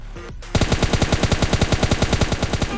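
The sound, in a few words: gunfire in the video game PUBG Lite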